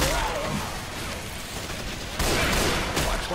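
A mounted gun firing in the Left 4 Dead 2 video game gives a continuous, dense roar of rapid shots that swells louder partway through, with game noise behind it.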